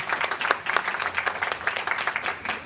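A round of applause from a school audience at a state of the school evening event, brisk close clapping from many hands continuing evenly without a break.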